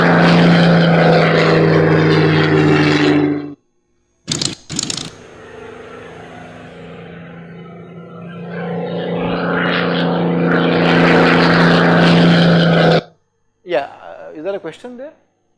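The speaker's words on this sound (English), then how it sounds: "It is a super, uh, supermarine Spitfire, a distinct uh, aircraft which is distinguished because of the shape of the wing." A Supermarine Spitfire piston-engine propeller aircraft flies past with a loud, steady engine drone that cuts out, returns softer, then swells again before ending, followed by brief faint sounds.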